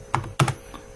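A few distinct keystrokes tap on a computer keyboard, close and crisp, with one heavier double-click in the middle and a faint tap at the end.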